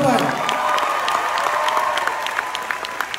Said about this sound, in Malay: Bagi tepukan dekat dia tuan-tuan dan